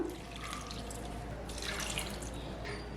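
Water splashes and trickles steadily into a cooking pot, a soft continuous pouring of about a cup of water with faint drips, fairly quiet and alone.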